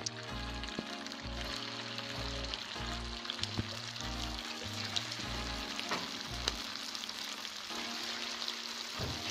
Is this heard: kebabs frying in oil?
yes